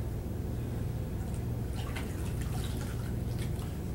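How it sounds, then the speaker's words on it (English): A paintbrush is swished and rinsed in a container of water, producing soft intermittent drips and sloshes, quiet and close, over a low background hum. "Take it, put it in the water"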